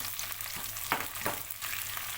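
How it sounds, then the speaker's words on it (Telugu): Tempering spices for gongura chutney crackle and sizzle steadily in a hot pan, with a few brief stirring scrapes and no talking. "పోపు మంచిగా కలర్ వచ్చే వరకు మంచిగా వేగనివ్వాలి"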